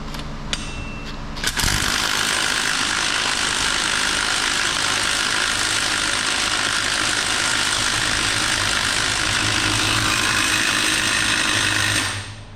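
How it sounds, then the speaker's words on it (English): A pinion nut on a Mopar 8 3/4 rear axle is run down with a power tool while the yoke is held, a short clatter giving way to a loud, continuous mechanical whirr that runs steadily for about ten seconds before stopping. "I'm gonna hold the yoke and tighten this up."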